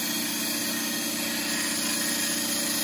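A woodturning gouge rides its bevel against spinning wood on a lathe, producing a steady, loud, continuous hiss and hum with motor drone underneath and no pauses.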